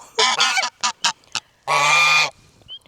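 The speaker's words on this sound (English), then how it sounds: "why did I just stick my hand in a goose's mouth?" Several loud, close goose honks in quick bursts, followed by one long, harsh sustained honk, with brief quiet gaps between calls.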